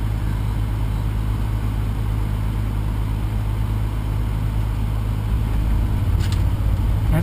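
A vehicle engine pulling hard uphill from a near, steady, loud drone that holds level throughout, with wind-like rumble and no voices.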